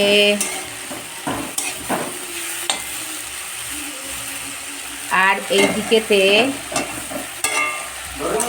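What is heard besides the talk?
vegetables frying and sizzling in pan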